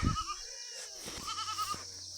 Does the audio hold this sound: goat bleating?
yes